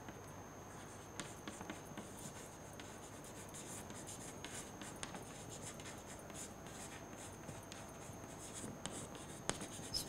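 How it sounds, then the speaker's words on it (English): Chalk or marker scratching across a board during a physics lecture, a continuous faint scraping with occasional sharper taps, heard alone without speech. "so let me write it"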